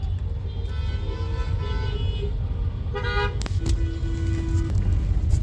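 A traffic jam in Dhaka carries a constant engine rumble, and several car horns cut through it in short toots and one longer sustained honk near the end.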